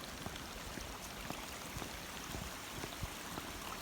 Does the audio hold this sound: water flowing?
yes